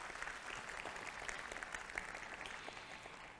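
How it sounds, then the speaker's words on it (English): An audience claps at a UX summit held at Singapore Polytechnic, a continuous, even wash of applause heard faint and from a distance. "round of applause to all our schools here in Singapore Polytechnic"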